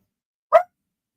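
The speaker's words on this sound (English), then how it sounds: "The dog's barking." A single short bark from a dog indoors during a conversation, sharp and moderately loud against otherwise silent background.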